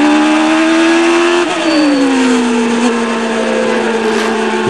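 Formula 1 car engine stuck in fifth gear with revs sagging low: a loud, continuous buzzing drone whose pitch dips and slides downward, close and unbroken.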